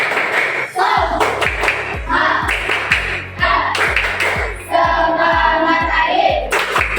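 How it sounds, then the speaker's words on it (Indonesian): A school class does the rhythmic spirit clap, about a dozen loud, sharp, evenly spaced group claps ringing in a classroom, with a few children's voices and shouts mixed in between the beats. "Tepuk semangat."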